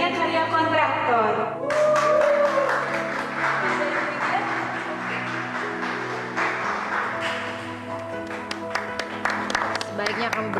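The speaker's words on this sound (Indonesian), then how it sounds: "Sebaiknya kamu berhenti untuk tepuk tangan" An audience claps at an award ceremony for the best entrepreneur of 2011, a dense, steady burst of applause that swells in just after the start and runs over background music to the end.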